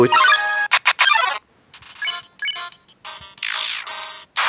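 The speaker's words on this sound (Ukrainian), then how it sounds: "Знову дзвінок." A phone call ringing in the video game Undertale: bright electronic ringtone bursts in short repeated pulses with gaps between them, loud and close, with no talking.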